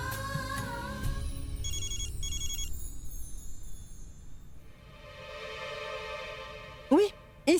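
A telephone rings in a soap-opera scene, with chirpy electronic ringtone bursts and a tonal warble sounding mid-level behind music and a brief voice.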